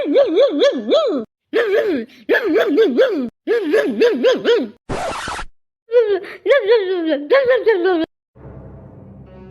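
A voice imitates a dog with warbling, whining barks and yelps in rapid bursts, broken by a short hiss.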